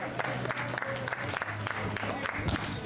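Spontaneous applause at an outdoor junior cycling race podium ceremony, moderate crowd clapping mixed with nearby chatter and an announcer's voice.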